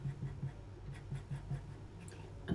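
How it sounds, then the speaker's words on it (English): Pastel pencil scratching across paper while shading a squirrel picture's tree trunk, a quick run of short rhythmic strokes close up, fairly soft, with no talking over them. "we'll lighten the edge of the trunk up with a lighter pencil"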